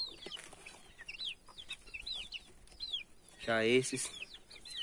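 Young chicks being fed corn, clucking and peeping in short repeated calls close by, with a louder burst of clucking near the end and a person speaking briefly.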